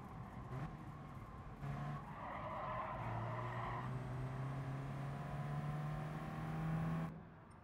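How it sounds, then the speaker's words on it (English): Peugeot race cars in a one-make race in the GT Sport video game, engines droning and rising in pitch with tire squeal and skidding, fairly faint and continuous before cutting off abruptly. "Why are we racing Peugeots?"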